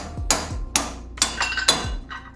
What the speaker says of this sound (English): I'm just going to knock that pin through and that'll release the shackle.